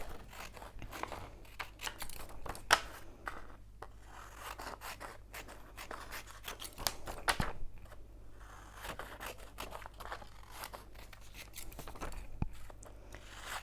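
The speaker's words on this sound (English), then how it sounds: "I need to cut out my other pictures and decide where I'm going to put them" Scissors snip and rub through paper, cutting out printed pictures for a handmade pop-up card; quiet, close, irregular cuts with soft rustling, no speech.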